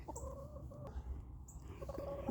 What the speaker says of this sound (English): Might just be chicken wars over the same box.